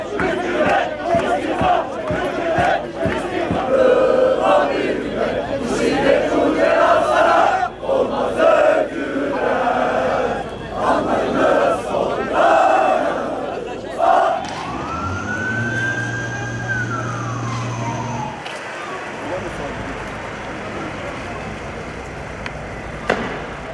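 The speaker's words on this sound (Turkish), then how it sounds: "bayrakları ve dillerinde barış sloganlarıyla yürüyen on binlerce kişi" Tens of thousands of marchers carrying flags chant peace slogans in a loud, dense crowd roar, and a wailing siren sweeps through near the end.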